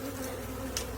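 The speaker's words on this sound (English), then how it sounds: "A 6-foot beehive. This is unreal." Bees buzz steadily around a huge six-foot beehive at a house, a constant close droning hum with a brief louder pass near the end.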